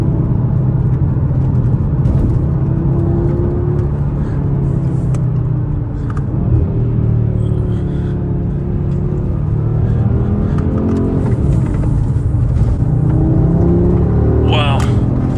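Audi RS3 8Y with exhaust flaps open, driven hard: a steady, loud engine and exhaust drone with rising and falling rev sweeps under continuous conversation inside the cabin.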